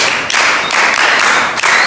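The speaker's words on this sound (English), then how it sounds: "Clap for yourself." Students in a classroom clap together for themselves after answering a science lesson question, a loud, close burst of dense clapping in a few rhythmic swells with no talking.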